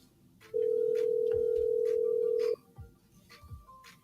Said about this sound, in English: Let me see if I can get Glaze back on the phone today.